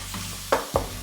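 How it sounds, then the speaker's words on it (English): Beef added to sizzling Thai green curry paste in a pan, a low steady sizzle with two brief stirring scrapes close by. "I'm gonna add the meat now."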